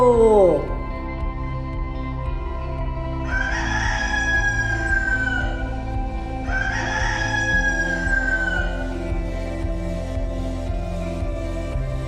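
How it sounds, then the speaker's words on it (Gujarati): A rooster crows twice in long rising-and-falling calls over a steady background tone, and a voice speaks at the start. "કુકડો."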